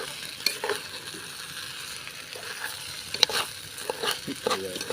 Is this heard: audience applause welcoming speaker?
no